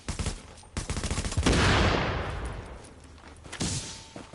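Dense gunfire from a firefight in The Division video game, with rapid bursts and volleys of shots throughout, loud and close, plus a heavier roaring burst midway.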